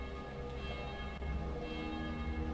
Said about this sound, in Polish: Dzwony biją jak cudownie.